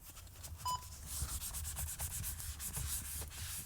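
A cleaning chemical is scrubbed into a car's interior trim around the shifter: steady close rubbing and brushing strokes fill the clip, with one brief electronic beep near the start.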